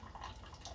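A Keurig coffee machine brews during descaling, a short continuous watery hiss and dribble of liquid running close by, with no voices.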